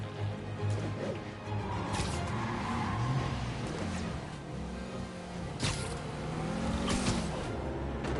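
Car in Marvel's Spider-Man driving with a rising and falling engine whine, revving through several swells over a rumbling road noise, with a few sharp impacts scattered through.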